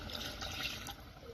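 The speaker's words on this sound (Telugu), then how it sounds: "నేనైతే 1 గ్లాస్ వాటర్ వేసుకుంటున్నా" A glass of water poured into daba-style chicken curry, making a short, soft, continuous liquid splash and gurgle close by, brief and fairly quiet.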